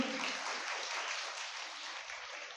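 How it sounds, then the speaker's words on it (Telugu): Clapping from an audience at a church Sunday school prize-giving, a soft, distant, even patter of many hands that holds steady and tapers slightly toward the end. "చప్పట్లు కొట్టండి అందరూ"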